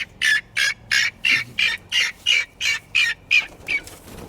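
Panicking chickens squawk in a steady run of about a dozen loud, close, evenly spaced calls, with some wing flapping possible underneath.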